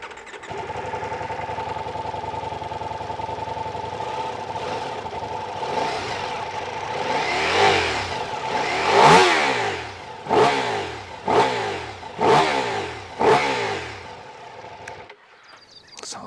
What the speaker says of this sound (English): And with these quad pipes, the engine also sounds really good.